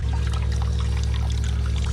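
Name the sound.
water flowing into a cattle water trough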